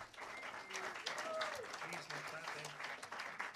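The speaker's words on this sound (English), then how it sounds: "we'll let them clap for this one" Audience applause at a city council meeting, a moderate spread of clapping from a small room crowd, fairly steady and fairly quiet, with voices talking over it.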